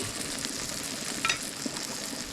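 Tarpon fish frying in a pan, a steady close sizzle and crackle running throughout with a few brief louder pops near the middle.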